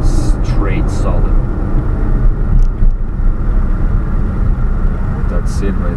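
A 1991 Daihatsu Atrai Turbo intercooler kei mini van drives on a curved road, with a steady close rumble of engine and road noise and a voice talking over it.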